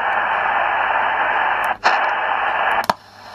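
AM band reception on an SI4732 receiver under poor conditions: a steady, loud hiss of broadband static with a faint carrier tone, broken by two brief tuning dropouts near the end.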